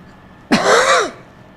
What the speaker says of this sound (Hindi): आज खांसी कुछ ज़्यादा परेशान कर दी है।